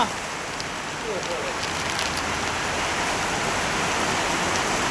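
Steady rain falls over a market area near a puffed-rice factory, a dense, even hiss that fills the whole stretch without letting up, with faint voices at the very start.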